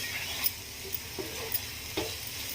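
Masala and tomato puree fry in a pan for fish curry, a quiet continuous sizzle broken by a few brief scraping stir sounds.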